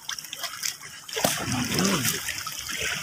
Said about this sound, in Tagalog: Kaya hinahampas para mabulabog yung isda.